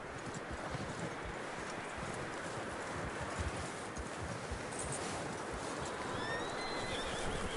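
Steady clip-clop of horse hooves at a walk in the video game Red Dead Redemption 2, close and continuous, with a faint whinny and some bird calls in the background.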